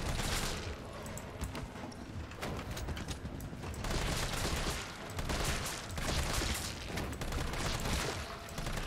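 Enemies blowing apart in the Resident Evil 3 video game, heard as a faint run of crackling bursts and rattling impacts that swell in several waves over a steady noisy backdrop.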